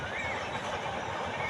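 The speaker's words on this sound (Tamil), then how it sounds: "எப்படி ட்ரெயின் வேகமாக போகுது" A fast-moving train gives a brief, continuous broadband rumble and rush, steady and fairly close, with no speech over it.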